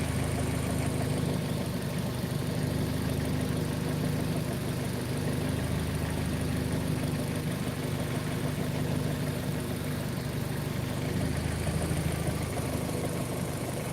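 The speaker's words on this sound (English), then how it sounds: "It's pretty much a 500 horsepower engine" A rebuilt car engine making roughly 500 horsepower idles steadily for several seconds, a continuous low droning hum with a faint rhythmic knock, close by and alone without speech.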